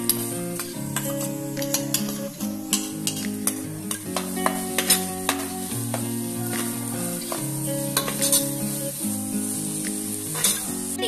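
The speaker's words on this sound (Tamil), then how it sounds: "எண்ணெய் பிரிஞ்சு வர வரைக்கும் நல்லா இதை வதக்கணும்" Chicken masala with tomato paste sautés in oil, a constant sizzle with frequent spoon clicks and scrapes against the pan, heard under continuous background music.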